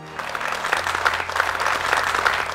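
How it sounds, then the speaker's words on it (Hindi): An audience at a business owners' event applauds loudly and steadily, a dense wash of many hands clapping continuously with a low hum underneath and no talk. "जोरदार तालियों से इनका स्वागत कीजिए।"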